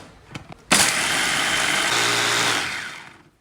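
A food processor grinds 18 Oreo cookies, kicking in abruptly after a few clicks and running at a loud, steady high-pitched whir for about two and a half seconds before spinning down.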